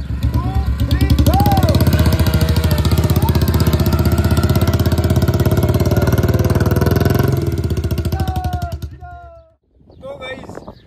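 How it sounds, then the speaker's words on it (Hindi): Two motorcycle engines, a Royal Enfield Bullet and a Hero Splendor, run loudly and steadily together with a throbbing idle, then cut out near the end, leaving a brief burst of other noise. "मोटरसाइकिल भी ये भी स्टार्ट होके चलेगी उधर, वो चलेगी उधर बुलेट वाली"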